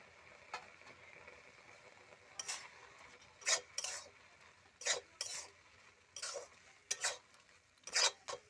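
Carrot halwa with khoa is stirred in a pan, with a spoon scraping and knocking against the metal in irregular bursts over a faint background hiss.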